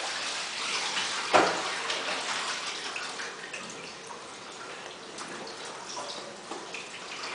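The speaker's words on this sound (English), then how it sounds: "So then I move and put this under running cold water." Cold tap water runs steadily over freshly cooked greens, a soft continuous splashing with a brief louder gush near the start, fairly quiet and with no talking.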